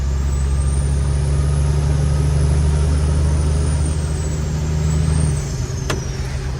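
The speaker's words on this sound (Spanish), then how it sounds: "Buja el camión" A truck engine roars loud and close in a steady, deep drone that holds for several seconds before easing off, a faint whine riding above it.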